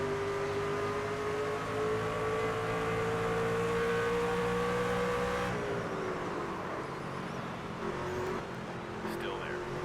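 NASCAR stock car engines roar in the video game NASCAR 25, a loud continuous whine that climbs steadily in pitch and then drops as the pack races on. A voice talks over the engines throughout.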